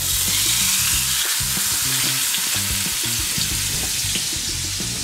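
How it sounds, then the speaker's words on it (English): Steak sears loudly in hot oil, a constant close-up sizzle with crackling pops throughout. "we're gonna go ahead and let it sear for a couple of minutes"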